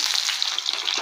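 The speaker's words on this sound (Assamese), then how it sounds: "আৰু এতিয়া মই দিম পিঁয়াজ" Onion hits hot oil and fries with a brief, bright, crackling sizzle close by, steady and fairly loud for about a second, with no talking.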